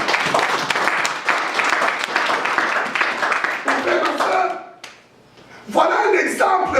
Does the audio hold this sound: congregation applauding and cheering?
yes